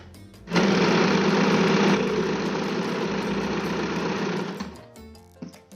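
A sewing machine stitches fabric in one continuous whirring, rattling run of about four seconds, starting abruptly and slowing at the end, close by and alone.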